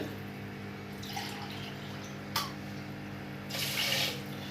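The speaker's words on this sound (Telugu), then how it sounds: "కప్పు గ్లాసు బియ్యానికి గ్లాసున్నర వాటర్ యాడ్ చేస్తున్నానండి" Water poured over washed rice in a vessel to soak it for sweet pongal, heard as faint intermittent trickles and one louder splashing pour toward the end against a quiet indoor background.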